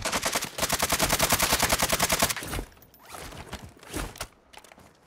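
Sustained automatic gunfire in a shooter game, a long rapid rattling burst that cuts off, followed by scattered fainter shots and mechanical clatter at a distance.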